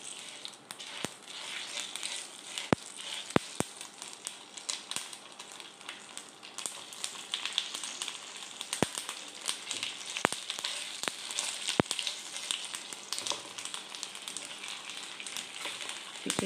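Moong dal pithas dropped into hot oil with tempering, sizzling and frying in a steady crackling hiss with scattered sharp pops, close and alone without any talk.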